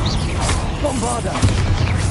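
A Bombarda spell explosion in Hogwarts Legacy booms amid low rumbling game effects, with a character's voice talking over the blast.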